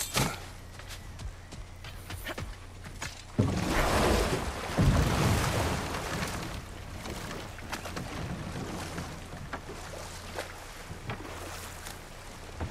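Rushing waterfall water in the God of War Ragnarok video game, a steady broadband wash that swells louder midway and carries on throughout, with no voices.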